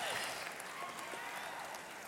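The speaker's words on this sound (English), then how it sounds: "Let's see those kinds of applause." Concert audience applauds at a live show in Los Angeles, a steady dense wash of clapping that holds evenly for the full stretch without pause.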